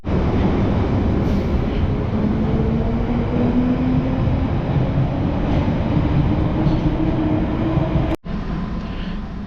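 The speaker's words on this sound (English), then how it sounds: "So the train's just coming up, or coming down now in." A London Underground tube train arrives at the Acton Town platform with a loud, continuous rumble and a rising mechanical whine, sustained throughout before a brief dropout near the end.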